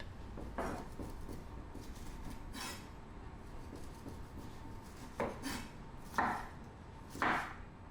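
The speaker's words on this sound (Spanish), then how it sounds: "Troceamos los limones y al cazo junto con la piel." A knife chops lemons on a cutting board in a series of quiet, irregular knocks, with a few sharper thuds and pan clatter toward the end; no one talks.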